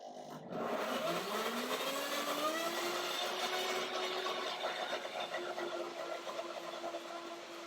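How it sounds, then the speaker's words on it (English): A German Bravo blend blender whirs loudly and steadily after a brief quiet start, its motor pitch rising then holding a continuous drone throughout. "This is a German blender, it's a Bravo blend"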